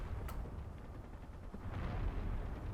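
Base turrets firing in the Space Engineers video game, a continuous low rumbling barrage of distant-sounding gunfire and booms with a few sharper cracks, steady throughout with no talking.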